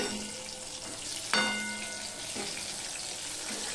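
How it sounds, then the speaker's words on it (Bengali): Brinjal (eggplant) frying in oil makes a soft, constant sizzle, cut by a sharp metallic clink from a utensil and a few lighter knocks as the pieces are lifted out. "এবারে এই বেগুনগুলো, ভাজা বেগুনগুলো আমি সব তুলে নিচ্ছি"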